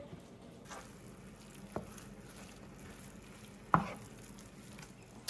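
Ground turkey browns in a pan with salsa, giving a soft, steady sizzle close by, with a few sharp clicks and scrapes of stirring against the pan and no voices.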